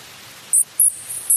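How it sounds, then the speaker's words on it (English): The acoustic modem on the deep-sea submersible Limiting Factor sends a few short, high-pitched electronic chirps in a spaced, irregular sequence over quiet background hiss. "That is the acoustic modem on the limiting factor."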